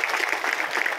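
Audience applause at a public gathering in Murum, a dense steady patter of many hands clapping close and loud throughout.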